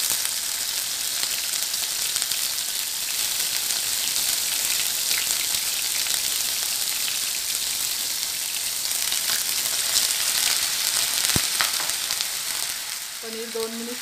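Paneer sautéing in a hot pan gives a steady, dense sizzle and crackle that stays loud and even throughout, with no voices.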